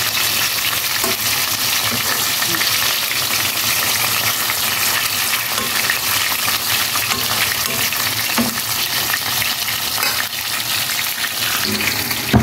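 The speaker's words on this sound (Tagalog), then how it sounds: "Alam niyo naman yung bangus kapag prito yan, tumalsik-talsik siya." Milkfish fries in hot oil with a loud, constant sizzle and crackle, occasional small pops breaking through the steady hiss.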